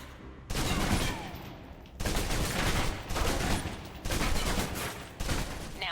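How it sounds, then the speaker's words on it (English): Submachine gun emptying full clips in Alpha Protocol: rapid sustained bursts of automatic fire, loud and close, in several long strings separated by brief pauses. "Now, let's move on to the submachine gun. Now let's empty the clip."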